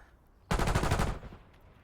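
Rapid automatic gunfire from the video game Call of Duty: Black Ops 6 bursts out loudly in a dense, fast-repeating volley lasting under a second, then cuts off into quiet background.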